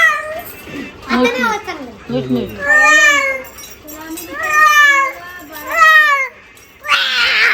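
A child imitates a cat with a series of drawn-out, wavering meows, several in a row with brief pauses, close and loud, followed by a short burst of noise at the end.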